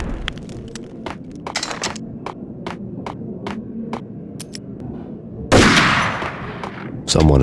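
Gunfire in Max Payne (2001): repeated sharp shots crack at irregular intervals over a low droning hum. Two loud heavy blasts close the passage, and faint voices sit in the background.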